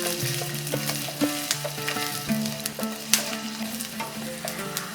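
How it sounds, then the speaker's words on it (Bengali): Ginger slices sizzle in hot ghee in a pan with a steady close frying crackle, partly masked by louder background music with several sharp clinks. "আদার স্লাইসগুলোকে 30 সেকেন্ডের মতন ভাজা ভাজা করে নেওয়ার পরেই বাকি মশলাগুলো দিয়ে দেবো।"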